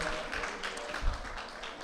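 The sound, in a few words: audience applause for Rohan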